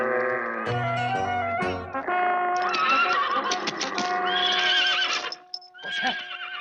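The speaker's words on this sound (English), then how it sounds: "The horses!" Horses whinny and neigh loudly in a series of shrill, wavering calls, with clip-clopping hooves mixed in, close and prominent, all in a 1979 film scene.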